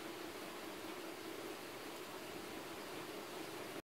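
Sliced small shallots frying in hot oil for a Tamil moringa leaf gravy, a steady, even sizzle that holds without pause and then cuts off abruptly.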